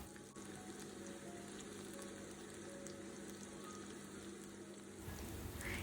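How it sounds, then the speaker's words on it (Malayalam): Chopped garlic and spring onion whites fry in butter with a faint, steady sizzle. The soft hiss runs continuously throughout, then grows slightly fuller and lower near the end. "ഇനി നമുക്ക് നല്ലൊരു ഗോൾഡൻ ഷെയ്ഡ് ആവുന്ന വരെ നന്നായിട്ട് ഫ്രൈ ചെയ്തെടുക്കണം."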